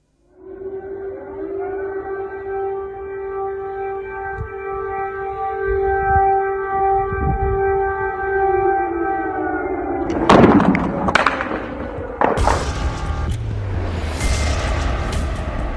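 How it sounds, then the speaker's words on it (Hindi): Air raid siren wailing in Kyiv, a long sustained rising and falling tone held for about ten seconds, followed by loud bangs and clatter. "राजधानी कीव में इस वक्त हवाई हमले के सायरन और एम्बुलेंस के हॉर्न ही सुनाई दे रहे हैं।"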